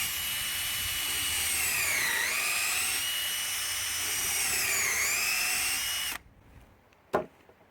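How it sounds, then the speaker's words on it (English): A loud, steady high-pitched power drill whines continuously into a log, its pitch dipping twice under load, then it stops abruptly, followed by a brief knock. "drill one in the middle of these holes here"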